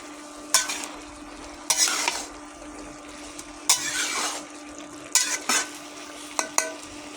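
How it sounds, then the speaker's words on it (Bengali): A spoon scrapes and stirs spinach curry in a frying pan over a low, steady sizzle, with several sharp bursts of stirring spaced a second or two apart. "দিয়ে আমি ভালো করে নেড়ে দেবো"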